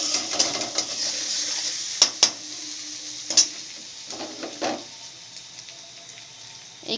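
Spices stir-fried in a pan with ginger, salt and sugar: a steady hiss of sizzling with scraping stirs and sharp clinks of a spatula against the pan every second or so, close up and without talk.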